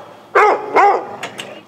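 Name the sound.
rescued pit bull dog barking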